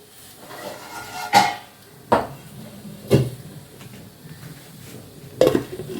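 A metal lid clatters onto a cooking pot in a home kitchen with several sharp, close knocks and clanks spaced a second or so apart, over a faint background hum.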